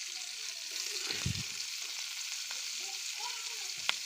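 Chili and garlic sizzle steadily in a pan while greens are cooking. A few soft clinks of a utensil stirring sound close by, and no one speaks.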